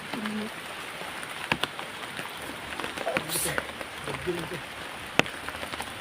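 Steady rain hisses heavily on a surface, with occasional sharp drip knocks and a voice talking faintly in the background.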